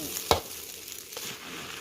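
A spatula scoops rice up from the bottom of a wok during stir-frying: one sharp, loud scrape, then a softer second scrape over a steady, gentle sizzle, with no voices.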